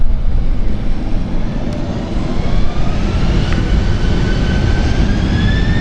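An Embraer 190 jet at London City Airport spools up its engines for a standing-start takeoff, a loud, steady broadband roar with rising tonal whines building over several seconds, heard continuously with no speech.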